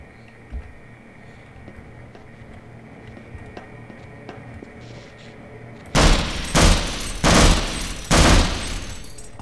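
Four heavy gunshot bursts from a weapon in Half-Life hammer out in quick succession, loud and close, after several seconds of quiet game ambience.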